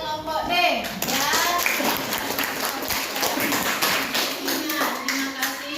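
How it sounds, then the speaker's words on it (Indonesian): Schoolchildren in a classroom clap for a group, a dense, steady patter of many small hands heard close, with children's voices mixed in. "beri dulu tepuk tangan kepada kelompok D ya."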